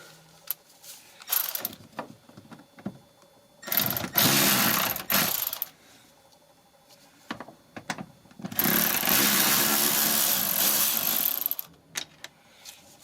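Mechanical whirring bursts from a screwdriver removing a Phillips screw from the door panel of a 1996 Honda Odyssey, in several loud runs, the longest lasting about three seconds, separated by quiet handling clicks.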